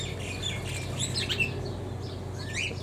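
Turquoisine parrots in an aviary give scattered squawks and chirps at moderate distance over a low, steady background hum.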